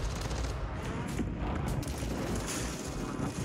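Warzone Rebirth Island gunfire crackles as a steady, dense barrage of shots over a few seconds, with a player talking over it.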